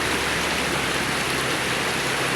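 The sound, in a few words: strong running water for washing carrots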